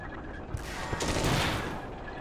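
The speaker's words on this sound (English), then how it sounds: "Someone's shooting at us." Gunfire crackles in the Steel Fury Kharkov 1942 tank game, a dense burst of distant shots and rattling over a steady engine rumble, swelling in the middle, with no speech.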